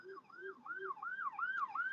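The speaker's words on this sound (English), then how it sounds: "It's not just the ambulance that you guys are hearing right now" An ambulance siren wails outside in a repeating rising-and-falling yelp, fairly clear and steady, with no talk over it.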